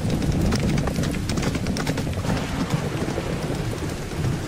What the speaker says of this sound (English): Horse and buggy in a forest.